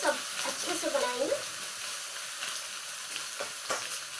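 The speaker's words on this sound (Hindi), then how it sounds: "ये देखिए आप, ग्रेवी तैयार हो रही है।" Tomato-based gravy for a soya chunk curry sizzles and frys steadily in a pan, a continuous close crackle with a stirring scrape early on and a couple of sharper spatters later.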